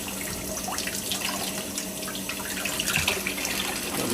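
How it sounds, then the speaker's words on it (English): Tap water runs steadily through a sausage casing being rinsed at a sink, a continuous close splashing rush with no talking. "run water all the way through that casing"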